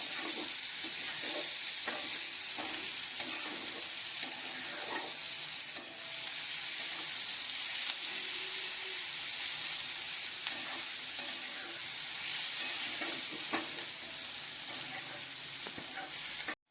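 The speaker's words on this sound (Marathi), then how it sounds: "त्याच्यामध्येच आता आपण कापलेला कांदा घालूया मिक्स करून घेऊया कांदा चांगला आपण भाजून घेऊया" Chopped onion frying in a pan for dry Bombay duck masala, a steady soft sizzle with scattered light scrapes and taps of stirring, no talk.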